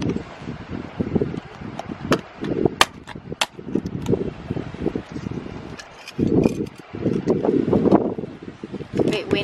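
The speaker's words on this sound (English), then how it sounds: "Bit windy." Gusts of wind buffet the microphone in uneven rumbling bursts, with scattered clicks and rustling, and a voice speaking intermittently.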